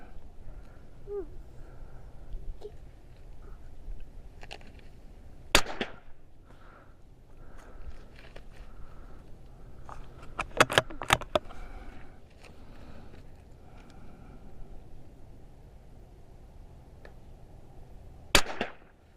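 Sharp, scattered cracks from a CZ457 rimfire rifle firing SK Pistol Match ammunition, a few separate shots and a quick close pair standing out over quiet outdoor background.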